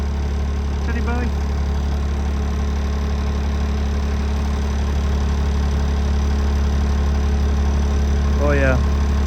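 A car engine idles close by in a smooth, steady low hum that runs unbroken throughout, with two short faint chirps rising above it near the start and end.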